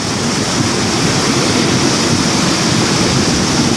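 Water pouring over the overflow hole at Combs reservoir, a loud, steady roaring rush that stays constant and close throughout.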